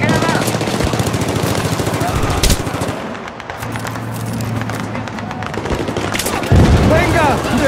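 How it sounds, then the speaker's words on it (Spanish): Enemy machine gun fire in the Battlefield 3 campaign on Xbox Series X: loud, close bursts of rapid automatic shots with heavy booms and battlefield noise, and a voice shouting in places. "¡Ametralladora enemiga al otro lado!"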